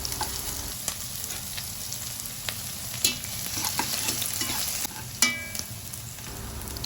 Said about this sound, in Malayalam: അതിൽ കുറച്ച് ഇഞ്ചിയും വെളുത്തുള്ളിയും അരിഞ്ഞ് വെച്ചത് ഇട്ട് ഒരു ഗോൾഡൻ ബ്രൗൺ കളർ വരുന്നത് വരെ ഒന്ന് വഴറ്റിയെടുക്കുക